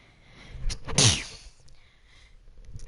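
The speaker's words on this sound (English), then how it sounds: "Sorry about that, need to sneeze." One sharp sneeze in a courtroom adventure game, close and loud, with a brief intake before it and quiet afterward.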